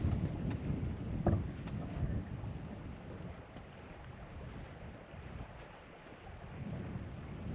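Wind buffets the microphone at a lake in Morocco's High Atlas near Imilchil and Lac Tislit, a steady low rumble with gusty swells and no talking.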